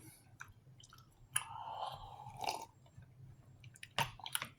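Chewing of a French military ration breakfast, with close crunchy bites and wet squishing in irregular bursts, moderately loud over a quiet background.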